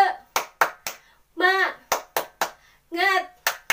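Children in a kindergarten class clap out a rhythmic spirit cheer, crisp hand claps in a patterned beat alternating with short bursts of children shouting together, loud and close.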